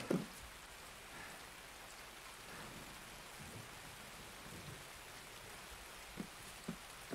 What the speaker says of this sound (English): God, I can't hear anything with this rain.